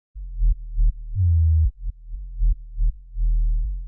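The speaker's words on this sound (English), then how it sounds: "And then I've got this hip hop sub bass there." Synthesized hip hop sub bass made in Ableton with saturation and compression plays a short run of deep, pure low notes, some clipped and some held, with brief gaps between them and nothing else heard.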